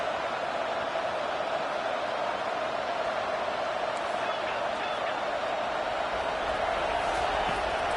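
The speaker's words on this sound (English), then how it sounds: "And this crowd coming to life here, trying to help the defense get a stop" A football stadium crowd roaring steadily to urge on the defense, a dense, continuous wash of distant cheering with a play-by-play voice speaking over it.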